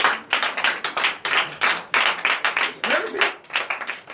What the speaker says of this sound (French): Donnez l'acclamation à Seigneur Jésus.